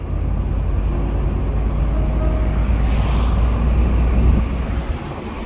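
A 1985 Rolls-Royce Corniche driving down the road, a steady low engine and tyre rumble with road and wind noise, heard close from inside the car and fairly loud throughout.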